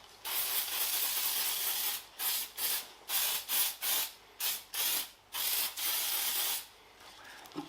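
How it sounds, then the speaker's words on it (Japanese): Heat-resistant spray paint hisses onto a steel wheel hub during a Mazda RX-7 FD3S suspension restoration: a long close burst, then a series of short rhythmic spurts, ending with another sustained spray. "ハブは鉄なんで錆びないように耐熱スプレーこれ塗っておきます。"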